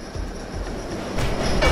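A train slamming into a player in the Gang Beasts brawler, a short rumbling rush of rail noise that swells louder near the end.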